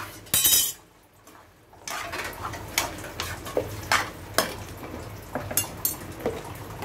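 Egg and boti (goat intestine) podi are stirred together in a frying pan, with a soft sizzle under repeated metallic clinks and scrapes of the spoon against the pan, close and without speech.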